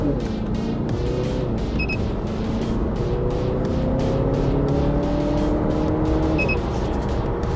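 Mazda 6 (Atenza) wagon with automatic transmission, engine revving hard toward the redline with rising pitch, then an automatic upshift and a fresh climb, loud and steady under continuous road and cabin noise.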